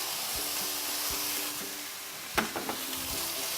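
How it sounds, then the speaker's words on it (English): Shallots hit a hot pan over medium-high heat and sizzle with a steady, dense crackle, joined near the end by a few sharp clinks and scrapes of stirring. "we're going to add our shallots in there"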